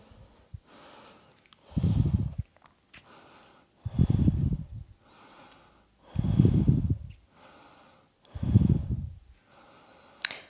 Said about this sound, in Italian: goderti ancora tre respiri calmi, lenti e profondi